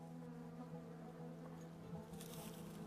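Steady, close buzzing of honeybees from collapsing colony hives under quarantine, a continuous drone with slight wavering and no voices.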